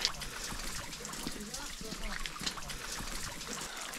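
Water trickles and drips from overhead along a levada trail on Madeira, a soft continuous patter with scattered drops under faint background noise and quiet voices.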